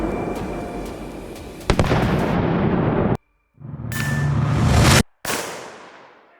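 A single sharp rifle shot aimed at a thrown egg in mid-air at 50 yards cracks out once amid steady broadband outdoor noise, followed by abrupt silent dropouts.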